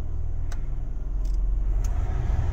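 A 1997 Honda Odyssey all-wheel-drive minivan with freshly adjusted valves idles steadily and quietly nearby, a smooth low engine hum with faint light clicks on top and no talking.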